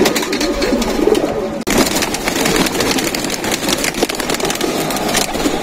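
Pigeons coo inside a loft, with steady overlapping low calls close to the microphone alongside faint wooden knocks and rustling, and a brief dropout partway through.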